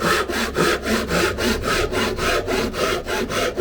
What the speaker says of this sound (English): Drop the saw back in the groove. This is a longer cut, or a deeper cut.